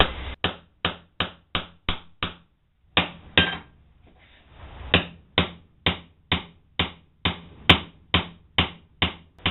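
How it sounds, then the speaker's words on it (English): Wooden dowels hammered one after another through a homemade steel doweling plate: a steady run of sharp, close wooden knocks in even rhythm, broken by one brief pause and a softer scraping stretch partway through. "As I drive them through this doweling plate and get them down to the size that I want"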